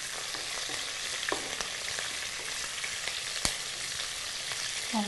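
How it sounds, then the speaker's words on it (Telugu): Curry leaves fry and crackle in a pan of oil for fish pulusu. A soft, steady sizzle runs throughout, broken by occasional sharp pops and spoon scrapes, with no talking. "ఇవి వేగుతుండగా ఇందులో కరివేపాకు వేసుకోవాలి. కరివేపాకు వేసి బాగా కలపాలి."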